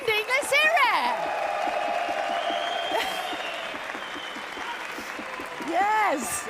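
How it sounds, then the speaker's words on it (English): Audience applause for the race winner Paul Jura at the Toyota Gazoo Racing GT Cup 2023 Grand Final, steady clapping beneath a host's voice that carries on throughout. "come on, give him a round of applause"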